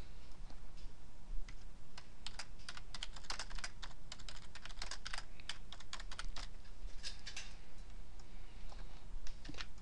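Rapid, irregular clicks of a computer keyboard as someone types a message into an Excel spreadsheet, close and fairly steady over the whole stretch with brief pauses, no talking.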